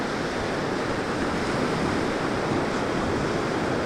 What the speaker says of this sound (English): See the waves crashing over it there?